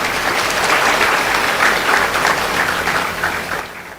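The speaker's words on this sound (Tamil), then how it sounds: "அரங்கம் முழுவதும் சேர்ந்து கைத்தட்டல் கொடுங்கய்யா" Sustained applause from an auditorium audience fills the space, dense and loud throughout, tapering slightly at the end.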